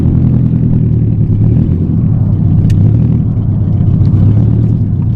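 A 240 car with 18 by 9.5 rims idles with a foot on the brake, giving a loud, steady low engine rumble that stays close and even throughout with no revving.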